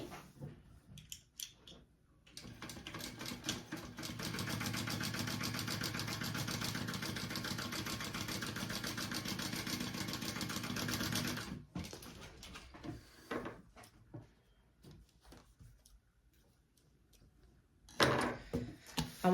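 A sewing machine top-stitches along the top seam of a fabric sling bag in one steady, close whirring run of about seven seconds, with handling clicks and rustles before and after.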